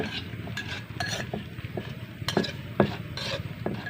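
Ingredients for a crispy fried green papaya salad with fried shrimp are stirred and tossed with fish sauce in a bowl, giving close, continuous scraping and mixing with light clinks of utensils and no talk.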